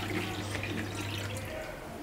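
Water is poured into a cup for a sattu drink, giving a soft continuous splashing trickle that stays low and steady for a couple of seconds.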